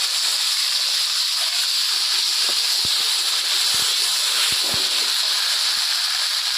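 Loud, steady sizzle of taro greens hitting a hot pan of oil with green chilli, cooking down alongside a hilsa fish head, close and continuous, with faint clinks from a utensil.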